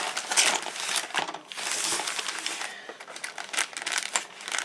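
Plastic packaging crinkling and crackling while a model train kit with wagons, a tank car and a gondola is unpacked, close and continuous with brief pauses, no talking.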